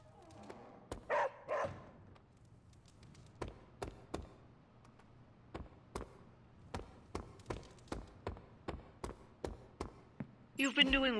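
Charlie the dog barks in Marvel's Midnight Suns, a series of sharp, evenly spaced barks, fairly close and clear, repeating steadily over a quiet background, with brief talk near the start.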